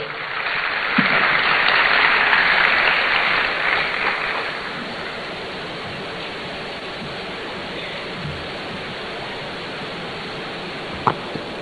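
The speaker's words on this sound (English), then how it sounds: "A round of applause for Prof." Muffled applause from the audience at a university business school programme launch in Ghana greets a professor, a broad rushing wash for the first few seconds that then dies into steady room noise.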